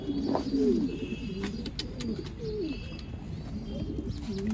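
Pigeons of an old line breed coo in a Bangalore loft, repeated low throaty rolling calls close by, with chirps and background chatter of other birds filling the space.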